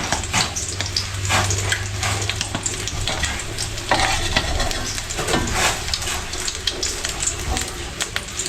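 Sauce cooks in leftover frying oil, a loud close sizzle with bubbling and repeated scraping of a spoon or spatula against the pan, plus a low steady hum underneath.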